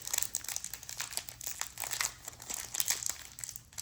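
A Magic: The Gathering Secrets of Strixhaven play booster pack's foil wrapper crinkles in quick, close, irregular bursts as it is handled, with no talk.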